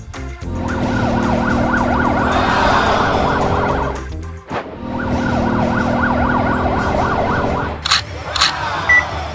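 A loud wailing ambulance siren cycles steadily up and down, briefly breaking off midway, then stopping near the end with a few short clunks.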